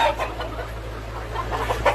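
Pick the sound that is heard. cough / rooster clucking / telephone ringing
rooster clucking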